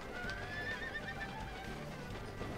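Horse in a video game whinnying loudly with hoof clip-clops underneath, a single drawn-out neigh over steady game ambience.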